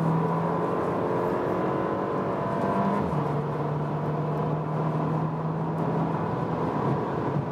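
Porsche Macan 2020 facelift pulling hard from 100 km/h in third or fourth gear, a steady droning engine note with rising harmonic tones and constant road and wind roar, no talking.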